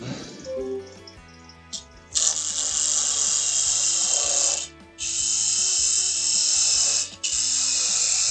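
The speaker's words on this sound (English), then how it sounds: "that's what happens when you get your tool rest too close to your jaws. They rub." Wood lathe turning a wooden spice pot, its tool rest set too close and rubbing against the chuck jaws, giving a loud sustained scraping hiss in long bursts with short breaks, over a steady low motor hum.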